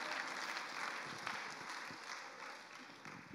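A church congregation claps hands in praise, a dense, steady patter of many hands heard from a distance and fairly faint, with no pauses across the stretch.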